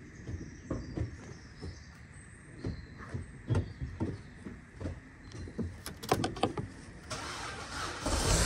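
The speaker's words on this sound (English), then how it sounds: "Start the car and check how is everything going on." A Vauxhall Corsa engine is started after a clutch replacement, a cranking sequence with door and interior clunks, ending in a louder surge as the engine catches.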